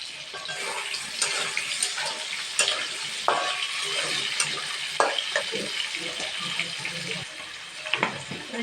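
Potatoes frying with rui fish in a pan of oil, a steady close sizzle with occasional clicks and stirring scrapes, and no talk over it.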